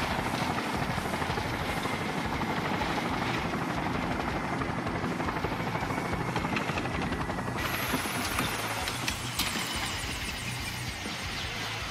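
A helicopter in Far Cry 5 drones loudly and continuously nearby, its dense rotor chop and engine roar filling the whole stretch without letup.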